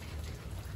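Rain falls steadily in a yard on a cool day, a dense, even hiss that fills the short stretch with no pauses, close and fairly loud, with nothing else heard over it.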